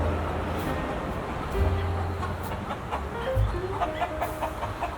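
Chickens cluck softly near a coop holding chicks, short low calls scattered over a steady outdoor background, moderately near and fairly faint.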